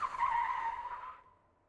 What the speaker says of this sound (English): plenty of handbrake turn practice